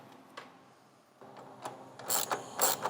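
A ratchet tightens 10mm bolts holding the fan assembly on a Silverado with a 5.3L or 6.2L engine, producing faint scattered clicks that build into a few louder ratcheting bursts near the end.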